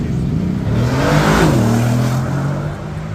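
A Ford Mustang pulls away hard from a Cars&Coffee meet in Luxembourg, its engine loud and close, revving up through a rising pitch, dipping as it shifts, then climbing again.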